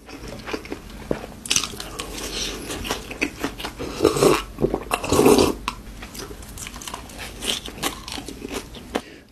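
Close, loud crunching bites and chewing of fried shrimp tempura in a mukbang, a dense run of crisp crackly crunches with brief pauses and no talking.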